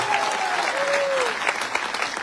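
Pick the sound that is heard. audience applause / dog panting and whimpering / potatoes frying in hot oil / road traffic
audience applause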